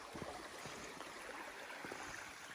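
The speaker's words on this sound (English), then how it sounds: "look at all that precious, beautiful water" Stream water flowing beside a hiking trail, a steady soft rush with light splashing and gurgling, fairly faint and continuous with no voices.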